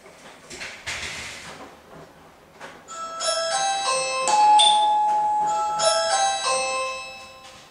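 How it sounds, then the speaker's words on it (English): Doorbell chime of a Samsung Family Hub fridge setup ringing inside a home, a sequence of clear bright tones that sustain and overlap, heard after a few faint knocks and rustles at moderate level. "I'll go ring the doorbell out the front and give you a look."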